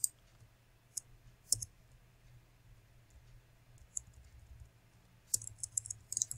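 Sharp computer mouse clicks and light keyboard taps come in sparse bursts over a quiet, humming room, a few isolated clicks then a quick cluster near the end.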